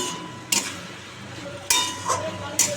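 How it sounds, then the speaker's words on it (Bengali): Potato and pointed gourd sauté with cumin, coriander, turmeric and salt over a low sizzle, broken by three sharp metallic knocks and scrapes of a spatula against the pan. "আলু পটলের রান্না বসিয়ে দিলাম আমি এর মধ্যে একটু জিরের গুঁড়ো ধনের গুঁড়ো হলুদ নুন সব দিয়ে দিয়েছি দিয়ে এখন কষাচ্ছি"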